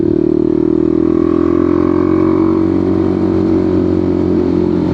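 A BMW G310R motorcycle climbs Gates Pass with a steady, loud engine drone and strong wind rush, holding an even pitch that rises slightly partway through.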